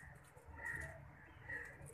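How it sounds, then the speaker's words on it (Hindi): A pigeon coos softly from nearby, giving two brief, rounded calls about a second apart over a low background hum. "बैसाख का मोहर वाला कबूतर"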